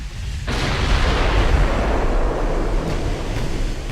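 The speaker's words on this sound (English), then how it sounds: "We're close enough the secondaries are starting to shoot." Secondary guns on a dreadnought firing during a close-range naval battle in Ultimate Admiral: Dreadnoughts, a dense, continuous rumble of gunfire and blasts that swells in loud after a brief quiet start and keeps rolling.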